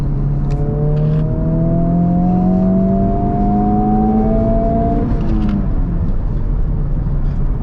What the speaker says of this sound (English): I'll just roll into it in third here, going up this hill.